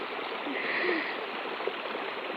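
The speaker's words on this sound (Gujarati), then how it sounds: "પાણી ચાલુ થઈ ગયું છે." Irrigation water flowing through a farm field, a soft, steady gurgling rush that stays even and fairly quiet, with no voices.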